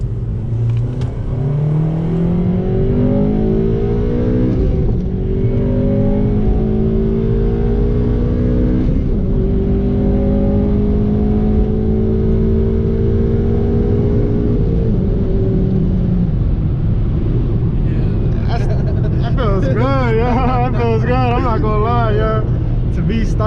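8th-generation Honda Civic Si with OEM+ setup accelerating during a 20 mph roll, engine droning as it climbs steadily through gears, heard loud from inside the car, with a short burst of voices near the end.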